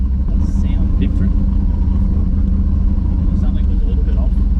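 A Holden VL Calais engine fitted with a Harrop 2300 supercharger idling unevenly, a loud close steady low rumble with a pulsing lope, while people talk over it.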